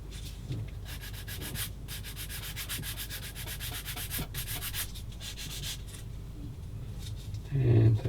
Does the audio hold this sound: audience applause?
no